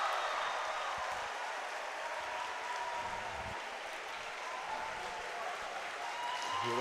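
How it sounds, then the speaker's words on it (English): Crowd at a European kendo championship cheering and applauding in a large hall, a steady wash of distant noise holding for several seconds, with commentary audible faintly beneath. "A lot of cheering"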